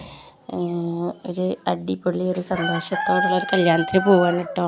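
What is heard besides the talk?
roosters crowing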